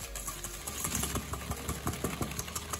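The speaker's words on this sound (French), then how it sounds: "J'ajoute 70 g de sucre et je bats au fouet pour que le mélange blanchisse." An electric mixer whisks egg yolks with sugar for a tiramisu tart, giving a steady mid-pitched motor whir with rhythmic beater knocks, close and fairly quiet, without talk.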